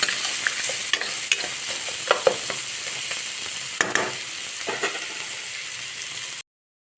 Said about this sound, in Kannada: ಇದನ್ನು ಸ್ವಲ್ಪ ಬ್ರೌನ್ ಕಲರ್ ಬರೋವರೆಗೂ ಈ ಈರುಳ್ಳಿ ಫ್ರೈ ಮಾಡಿರಿ.